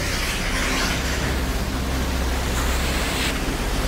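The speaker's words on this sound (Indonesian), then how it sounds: "Airnya sangat deras loh, pemirsa." The Betimus river rushes fast and cold below Batu Belah waterfall in Sibolangit, a dense continuous roar of water filling the whole clip, steady and close with no voices.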